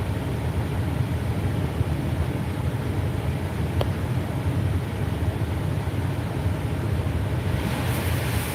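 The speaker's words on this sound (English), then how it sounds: "Come on, air conditioner." Steady, dense broadband blowing from an air conditioner in a hot room, a constant close rush of air with no talk.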